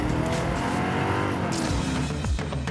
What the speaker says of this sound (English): if you want a car to smoke tyres in,